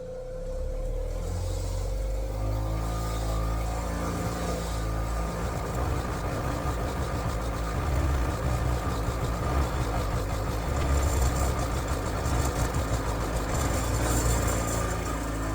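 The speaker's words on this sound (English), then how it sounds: "I'm going to clean them up on the wire wheel." Car wheel nuts are cleaned on a spinning wire wheel, giving a steady, continuous whirring and grinding hum that stays fairly even throughout with no talking.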